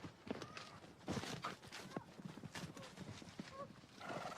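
Hooves of a spooked horse clop unevenly on the ground amid scuffling and movement, with a horse snorting and distant voices mixed in, faint overall.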